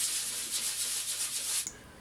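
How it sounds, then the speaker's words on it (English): Steady, raspy sanding strokes rub back and forth close up on wood around screw holes for a moment, then stop abruptly, leaving faint background noise. "so here I am just sanding it off around the screw holes"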